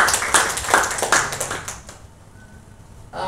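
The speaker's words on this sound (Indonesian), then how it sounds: "Kasih tepuk tangan yang support." A church congregation claps in a short burst of applause that fades out within about two seconds, leaving a quiet room.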